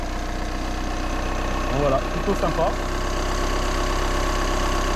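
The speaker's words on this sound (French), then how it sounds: "Et le moteur démarre. Voilà. Et il démarre plutôt bien." Car engine idling steadily after being cleaned with a degreaser, a continuous low rumble running throughout, with someone talking briefly over it.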